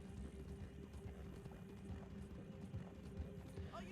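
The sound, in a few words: horse hooves clip-clopping in a Red Dead roleplay video game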